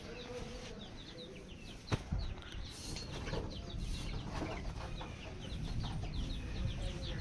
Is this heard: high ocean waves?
no